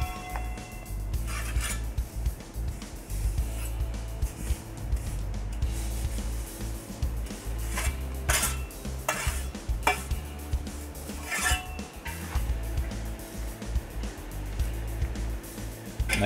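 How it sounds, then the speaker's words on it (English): Pointing trowel scraping and smoothing mortar between bricks while building a landscaping wall, with repeated close metallic scrapes and clinks in an uneven rhythm over steady outdoor background. "I'm using a pointing trowel to make sure the mortar is nice and smooth between the bricks."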